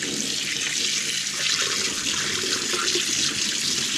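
Tap water runs steadily and loudly as a mackerel fillet is rinsed under it in a sink, a continuous splashing rush with no talking.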